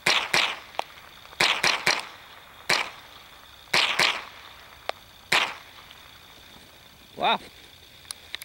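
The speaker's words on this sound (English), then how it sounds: "So here goes same bullets, Remington golden bullet, and a standard Remington magazine." A Remington 597 rifle fires Remington Golden Bullet rounds from a standard Remington magazine: about ten sharp, close shots in uneven bursts of two to four, each with a short echoing tail, and a brief ringing clink near the end.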